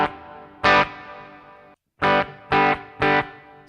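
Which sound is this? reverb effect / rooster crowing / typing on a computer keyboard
reverb effect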